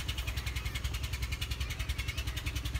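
A Massey Ferguson 375 tractor stuck in a field ditch strains with a rapid, pulsing engine throb, steady and fairly close, its chugging beat repeating evenly with no talking over it.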